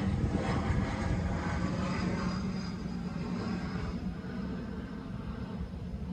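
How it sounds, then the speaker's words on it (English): A propeller or jet airplane passes low overhead near an airport in a residential garden, a loud, broad engine roar that stays strong and then eases slightly as it moves away, with no talking. "Just wait for that plane to go by."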